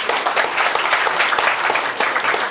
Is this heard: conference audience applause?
yes